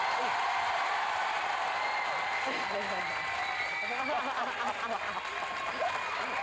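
A crowd of admirers applauds and cheers in a dense, steady wash of clapping that fills the whole stretch, with voices mixed into the noise.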